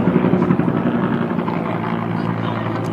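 Helicopter rotor drone heard near Baltimore: a steady, loud low thrumming wash that holds through the whole stretch with no break.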